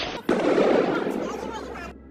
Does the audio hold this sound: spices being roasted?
no